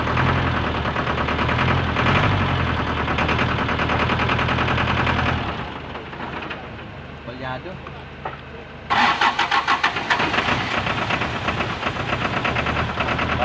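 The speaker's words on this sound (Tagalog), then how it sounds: "palyado ang makina yan oh namamatay gawa sa diesel yan kinakapos" A diesel engine in a starter-repaired vehicle runs roughly and misfires, its loud uneven rumble dropping away as it stalls before cranking back up with rapid chugging pulses; a voice talks over it.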